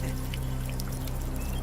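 Water poured steadily in a dubbed Hindi action film scene, a continuous close splashing pour without speech.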